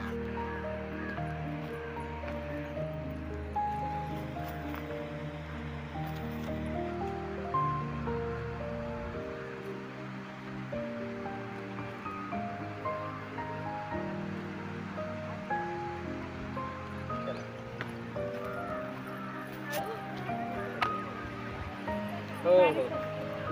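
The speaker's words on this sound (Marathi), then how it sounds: "जानेवारी महिना आलाय पण अजूनही या धबधब्याला पाणी चालू आहे" A waterfall still running in January with reduced flow after a late monsoon, heard as a steady broad rush of falling water in an outdoor scenic spot, with voices talking over it and a crow cawing.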